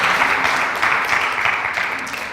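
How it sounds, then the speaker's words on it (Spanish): A church congregation applauds during a sermon, with steady, dense clapping that holds close and loud throughout before easing slightly at the end. "Denle un aplauso al Rey, por favor."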